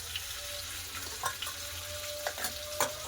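Onion paste and chili powder frying in oil for a Bengali rui fish dish, a steady quiet sizzle with occasional scraping stirs of a spoon in the pan, no voices.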